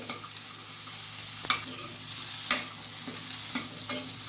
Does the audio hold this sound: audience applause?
no